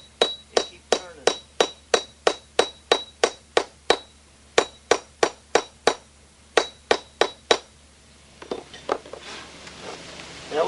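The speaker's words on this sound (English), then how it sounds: "This is a star chisel." A star chisel is struck into stone and turned between blows, making about twenty sharp, ringing metallic hits in a steady rhythm, close and clear. Softer scraping and tapping follow.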